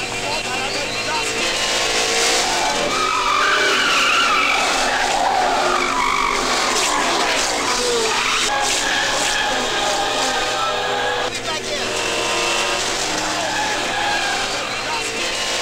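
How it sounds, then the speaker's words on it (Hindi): Racing cars with screeching, skidding tires and roaring engines in a South Indian action movie race scene, a loud continuous wash of squeal and motor noise lasting throughout, with voices talking over it. "गोगा तुझे रेस देखना था ना"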